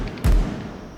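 A single heavy thud from a spinning wheel kick landing in a crowded bar fight, one short, loud, low impact followed by fading room noise.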